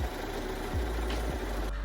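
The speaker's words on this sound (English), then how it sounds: "Then head to the sewing machine and stitch them up at 1 cm seam allowance." Sewing machine stitching fabric seams for a cowl neck dress, a soft continuous whirring with faint regular thumps of the needle, fairly quiet and steady with no talk.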